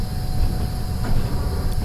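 Train running in Trans-Siberian Railway Simulator, a steady low rumble with rolling rhythmic thumps, loud and close, alone without voices.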